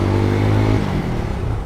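A motorcycle engine drones steadily while riding, a loud close hum with a throaty low tone that shifts pitch slightly as the throttle eases.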